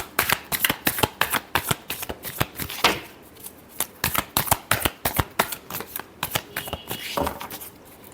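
Tarot cards are shuffled by hand in a rapid series of crisp, close riffling slaps, with a brief pause before the shuffling resumes, and a voice is faintly heard at moments.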